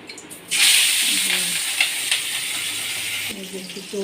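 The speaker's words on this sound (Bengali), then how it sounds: "এবার বাটা মাছটা ভেজে নিচ্ছি।" Bata fish with roe, rubbed with salt and turmeric, hits hot oil in a pan with a sudden loud sizzle that continues steadily, with a few scraping stirs and a brief voice near the end.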